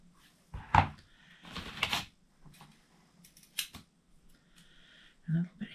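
Scissors snip through craft material while a mug decoration is put together, with a few separate close, crisp cuts spread across a quiet room.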